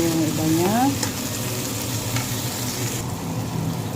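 Tomatoes sautéing in butter in a pan for chicken biryani, a steady close sizzle and frying hiss with brief stirring scrapes, while a short voice-like tonal sweep rises near the start.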